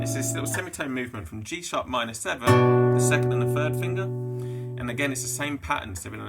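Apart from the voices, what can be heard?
None of the usual background noises is heard.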